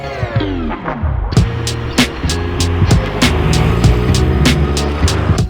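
A 1995 Mazda Miata M Edition drives past, its engine note dropping as it goes by, followed by a loud rhythmic run of regular thumps over a steady road and engine rumble.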